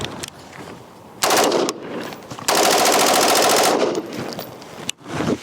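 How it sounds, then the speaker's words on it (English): An AR-15 rifle with an Aegis Weapons upper receiver is bump fired at a high rate in loud, rapid bursts of gunfire: one short burst, then a longer sustained one and a final brief volley, with no talking. "4 20-round mags, bump fired through, you know, high rate of fire"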